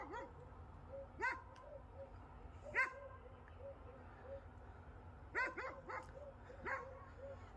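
A dog barks several times outdoors, some way off, in short separate bursts with pauses between, over a low background hum.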